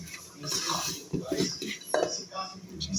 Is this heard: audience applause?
no